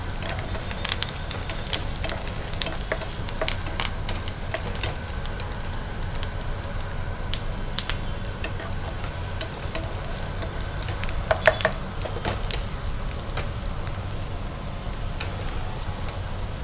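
Garlic, ginger, green chilli and curry leaves sizzle steadily in hot oil while being stirred, a continuous close crackle with occasional scraping clicks and no talk.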